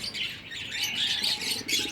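A baby pigeon chick at home chirps close by in a fast string of thin, high peeps that run steadily for about two seconds, with no talking.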